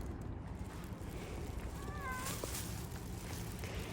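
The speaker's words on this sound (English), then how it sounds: "You're a talkative kitty," A stray cat on an Istanbul street gives a single short, faint meow partway through, set against a steady wash of low background noise.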